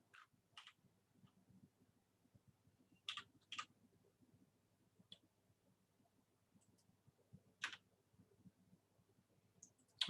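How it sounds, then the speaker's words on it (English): Quiet, sharp clicks come in quick pairs and singles with long gaps between them, like a computer mouse being double-clicked in a quiet room, with faint low background hum. "so I'm just double clicking it."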